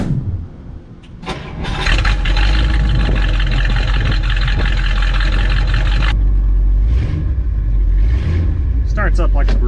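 A 1960 Ford Thunderbird's engine cranks briefly, then catches and roars to life. It settles into a loud, steady run before the revs drop back, and some faint sounds follow near the end.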